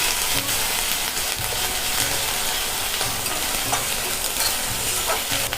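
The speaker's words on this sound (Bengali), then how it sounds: "তারপরে 1 চামচ আদা বাটা দেব, দিয়ে আবার একটু কষে নেব।" Ginger paste is stir-fried in a pan, giving a continuous loud sizzle with rhythmic scraping and stirring throughout and no talk.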